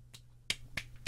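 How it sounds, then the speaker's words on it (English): Four sharp, quiet hand claps snap out in quick uneven succession during gameplay of Silent Hill 3, each one crisp and short against a low hum. "And then I clapped."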